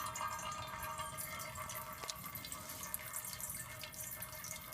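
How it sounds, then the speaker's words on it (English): Water drips from the dirty-water valve of a LifeStraw Mission purifier, a faint, steady trickle and patter close by in a quiet setting, alone with no voices. "I've played with that valve a bunch of times, and it pretty much always drips if there's water in the filter"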